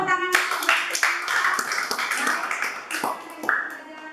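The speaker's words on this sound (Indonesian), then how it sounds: "Berikan tepuk tangan." A school class clapping together in a classroom, a short burst of hand claps mixed with children's voices and chatter, fairly close and uneven.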